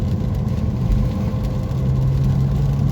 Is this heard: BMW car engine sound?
yes